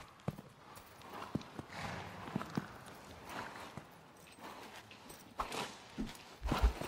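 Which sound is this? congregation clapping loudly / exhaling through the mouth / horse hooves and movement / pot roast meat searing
horse hooves and movement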